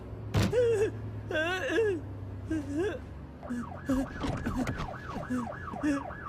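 A police car siren wails in rising and falling cycles through a movie scene, loud and close, with shouted voices and groans heard alongside it.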